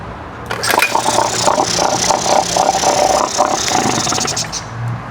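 A Mercury 3.3 HP outboard motor runs after being revived, starting up and settling into a loud, rattling, buzzing mid-pitched drone that continues steadily, close by.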